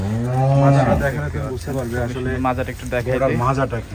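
A Danu breed cow lets out a low, drawn-out moo near the start, followed by quieter lowing, with people talking over and around it throughout.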